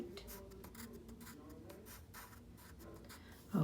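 Pen or pencil writing temperature numbers on a paper math worksheet, heard as soft, close scratchy strokes in short bursts against a quiet room, with a louder bump near the end.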